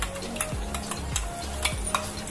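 Paneer frying in a pan with oil, with a steady sizzle and repeated stirring scrapes and clinks of a spatula against the pan, close and continuous with no talking.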